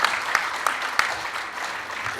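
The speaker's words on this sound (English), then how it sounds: "may you give a big round of applause to our panelists who have been very good" A conference audience gives scattered, moderate applause for a panel on institutions and industrialization, with a few sharper claps standing out early before the clapping thins.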